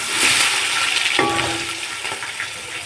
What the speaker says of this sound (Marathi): साधारणतः असे 20 मिनिटं मी जवळजवळ हे कांदे जे आहेत ते परतून घेतले